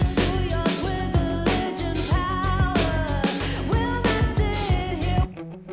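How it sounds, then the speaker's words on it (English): Chicken-picked electric guitar in the second verse of a rock track, sitting inside a loud, dense full-band mix with steady drums and sustained chords, cutting off abruptly near the end. "So this is what the second verse sounds like with that kind of chicken pick guitar."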